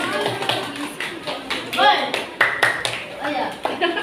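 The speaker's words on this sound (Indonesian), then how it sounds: "Kita beri tepuk tangan buat kelompok 3." Classroom applause for a student group: several bursts of clapping hands from a class, close and lively, mixed with children's voices talking over it.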